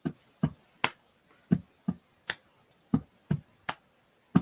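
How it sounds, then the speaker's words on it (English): A single person claps in a stomp-stomp-clap pattern, sharp isolated hits in an uneven repeating rhythm, fairly quiet and close with nothing else around. "I'll do the clap."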